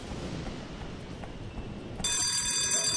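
The thief alarm in the horror game White Day bursts in abruptly about two-thirds through, a loud, harsh, steady electronic ringing over a low background rumble.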